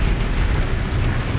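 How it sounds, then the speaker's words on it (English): A loud, sustained area-of-effect explosion from the space game Starsector, a dense rumbling roar that fills the whole moment with no break, heavy in the low end. "It looks like they got killed by the AoE explosion."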